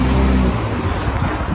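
Cars passing by on a roadside in rainy weather, a loud close engine and tyre rush that swells and fades as vehicles go by, with no talking.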